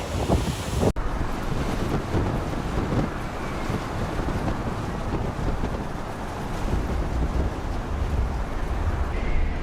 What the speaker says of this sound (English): These waves are quite powerful and high.